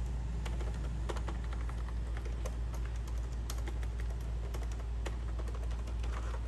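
Laptop keyboard keys pressed over and over to test responsiveness, giving a steady stream of close, crisp clicks at an uneven pace with no voices.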